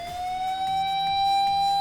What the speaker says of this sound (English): Apparently, they weren't too far off, as a siren approaches in no time.